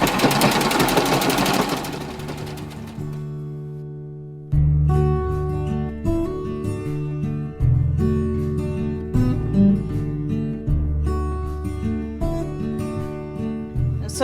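A sewing machine running a long straight stitch down an apron, a steady loud mechanical whirr in several bursts with short stops between, no talk.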